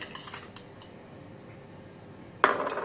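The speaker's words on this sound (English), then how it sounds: "Mix until the salt and the sugars dissolve with the vinegar" A spoon clinks against a bowl or glass while mixing salt and sugar into vinegar for pickling green chillies: a few light metallic taps at the start, a quiet pause, then a sharper clink near the end, with no speech.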